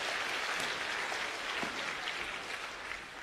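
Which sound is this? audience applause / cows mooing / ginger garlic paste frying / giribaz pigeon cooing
audience applause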